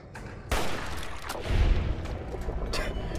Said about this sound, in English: I heard gunshots somewhere.